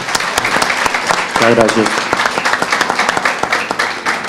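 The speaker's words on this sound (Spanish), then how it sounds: "les vamos a dar un aplauso" Audience applause at a business productivity event, a roomful of people clapping steadily and close, with scattered sharper individual claps and a voice speaking briefly partway through.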